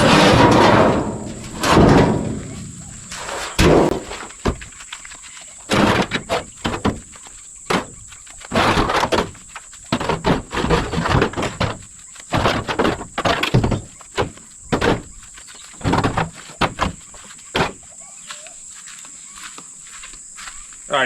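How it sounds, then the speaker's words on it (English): Interior panels are pried and pulled from an International truck cab, producing a string of irregular knocks, clunks and scraping thuds up close. A steady high insect-like whine runs underneath throughout. "So might pull some of these panels out of the inside"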